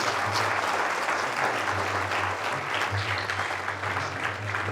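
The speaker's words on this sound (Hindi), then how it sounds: "एक बार जोरदार ताली होने के लिए।" An audience welcomes two Indian classical musicians, santoor and tabla players, with loud, continuous clapping that fills the hall evenly from start to finish.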